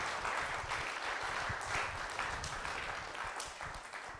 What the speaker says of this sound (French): Nous pouvons vous applaudir en vous remerciant